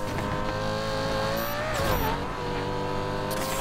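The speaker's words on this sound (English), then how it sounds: "BMW M5 is beating a fucking Lamborghini Hurricane." A Lamborghini Huracan and a BMW M5 drag race in a video game, with loud, continuous high-revving engine whine climbing and shifting pitch up close.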